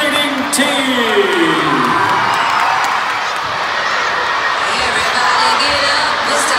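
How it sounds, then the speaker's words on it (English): A school crowd at a girls' basketball game erupts in loud, sustained cheering, whoops and yells with applause mixed in for the MCS cheerleading team, a dense roar that swells and holds for several seconds. "Give them a round of applause, ladies and gentlemen, the MCS cheerleading team."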